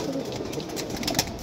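Soft pigeon coos from a loft of pigeons, brief low murmurs under a constant background hiss with a few faint clicks.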